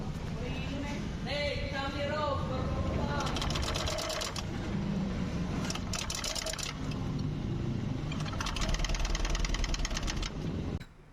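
A Honda ADV 160 scooter engine runs steadily, a close mid-pitched mechanical drone under loud talk, with bursts of rattling noise and a heavier rev near the end before it cuts off.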